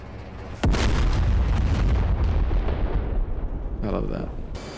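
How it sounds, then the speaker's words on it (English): Laser-guided bomb exploding in the DCS F/A-18C flight simulator, a sudden loud boom followed by a long rumbling roar that slowly fades, with a voice briefly near the end. "Watch the bomb fall. You'll see it just falling ballistically"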